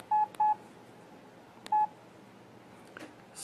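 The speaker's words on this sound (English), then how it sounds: "Let's flip open the phone again and see if we can go through the main menu" Three flip-phone keypad tones, two quick beeps and then a third after a pause, each short and clear over quiet background noise while a simple on-screen menu is navigated.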